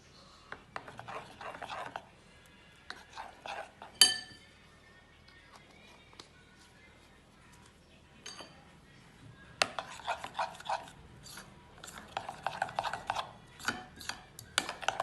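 A spoon mixes banana fritter batter with a drop of yellow food color in a bowl, giving scattered scraping and rubbing strokes that come in short clusters, with a sharp clink partway through and quieter gaps between bursts.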